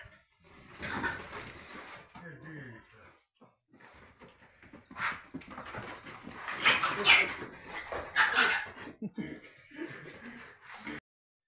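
Squeals and scuffling from piglets being caught in a barn, with excited voices and laughter over a busy, clattering background; loudest bursts come in the second half.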